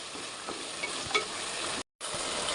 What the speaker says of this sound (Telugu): ఇలా మంచిగా ఫ్రై చేసుకోవాలండి ఇలా మంచిగా ఉడుకుతుందండి